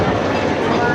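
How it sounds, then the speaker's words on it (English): Ghost train ride car at Blackpool Pleasure Beach rolling along its rails, a steady close rumbling clatter that continues without a break under loud indoor ride noise. "this is the most haunted ghost train in the world"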